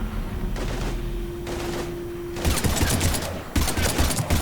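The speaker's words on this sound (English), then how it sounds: "we're taking heavy fire" Sustained gunfire in the Mass Effect 3 opening battle, loud dense bursts of rapid shots starting partway through and continuing to the end, preceded by quieter background rumble and a steady tone.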